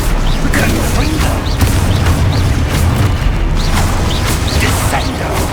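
Booming spell blasts and crackling impacts from Confringo fire magic in Hogwarts Legacy, loud and dense, with repeated sharp bursts over a rumbling bed and a voice shouting along.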